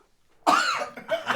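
A harsh, close single cough bursts out after a long hush, followed by a second rougher hack, sounding raw and caught in the back of the throat after a big sniff.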